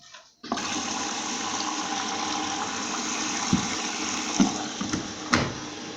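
A Bosch Serie 6 washing machine running a 60-degree cotton wash of dark clothes starts up with a rush of water and motor hum, then settles into a steady close drone broken by a few soft thumps.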